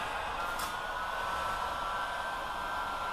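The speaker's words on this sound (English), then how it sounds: "So first thing I like to do is I like to heat it." A hot-air heater blows on the rubber weather stripping of a 1973 Mustang coupe's quarter glass, a constant, loud blowing whir with no pauses.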